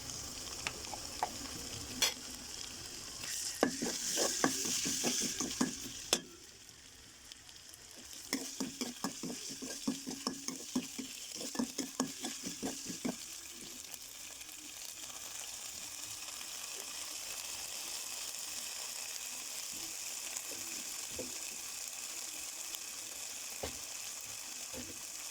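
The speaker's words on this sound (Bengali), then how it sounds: "আমি আদা বাটা দিচ্ছি" Ginger paste sputters and sizzles in a pan while a spoon stirs it in quick, rhythmic clacking strokes that grow sparse, leaving a steady frying hiss alone toward the end.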